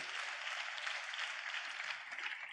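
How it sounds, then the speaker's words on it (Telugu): Church congregation clapping hands together in praise during a Telugu sermon, a steady dense wash of many hands held at an even level throughout, with no voices over it. "చప్పట్లు కొడుతూ ఒకసారి స్తోత్రాలు చెప్తాం."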